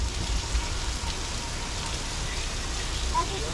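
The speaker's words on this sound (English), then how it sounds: "rain is created by an overhead sprinkler hidden from view" Artificial rain from a hidden overhead sprinkler on a Universal Studios Hollywood set, with water sprayed straight up and falling back like rain, makes a steady, even hiss of falling water throughout.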